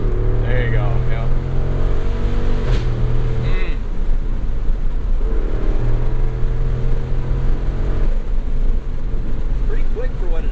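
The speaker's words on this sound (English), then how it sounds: "you wouldn't get to be on throttle and be hearing the V8 motor for as long" A 2024 Jeep Wrangler 392 with a V8 engine drives under throttle, its deep exhaust drone rising and falling through gear changes, loud and close, while people talk over it.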